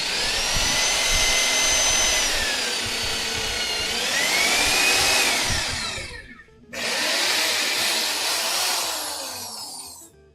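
A power drill boring holes for a table saw stand, two high whining bursts that rise and fall in pitch, loud and close, separated by a brief pause, with no talking.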